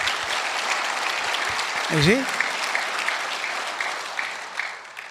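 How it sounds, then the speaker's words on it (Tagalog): A church congregation claps through a service, a steady broad wash of applause under a preacher's voice, with someone briefly speaking over it partway through. "Lakasan niyo po yung palakpak."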